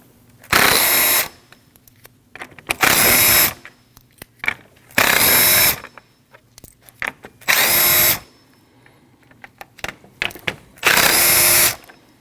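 A power tool spins out 10mm bumper bolts across the front of a 2013-2019 Ford Escape in five loud, close bursts of about a second each, with small clicks and handling sounds in the pauses.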